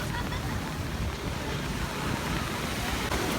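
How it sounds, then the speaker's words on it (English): Sea waves breaking on a shore, a steady broadband roar of surf with wind buffeting the microphone, continuous and fairly loud with no clear talk. "The waves are literally coming out."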